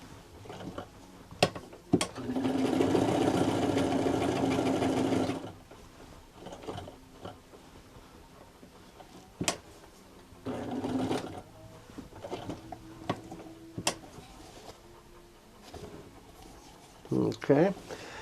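A vintage American Home zig zag sewing machine runs a straight stitch in one steady whirring burst of about three seconds, followed by a shorter run, light clicks and handling noises at close range.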